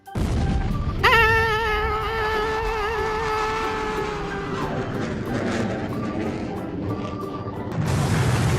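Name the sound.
cartoon explosion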